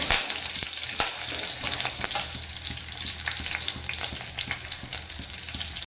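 Green chilies and dried red chilies fry in hot oil with garlic, a steady close sizzle with crackling pops and occasional stirring scrapes, continuous for several seconds with no talking.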